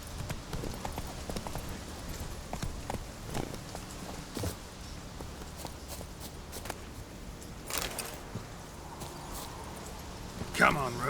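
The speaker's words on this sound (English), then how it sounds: "Come on, Roach." Horse hooves clip-clop at a walking pace in the video game The Witcher 3, with steady, moderately close steps and background game ambience.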